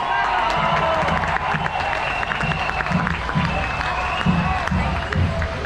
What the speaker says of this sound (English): keep that round of applause going for Craig Kelly!